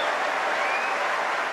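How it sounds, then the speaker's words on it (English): A Wimbledon tennis crowd applauds and cheers, a dense, loud wash of clapping that fills the whole moment before tapering slightly at the end. "Listen to that crowd"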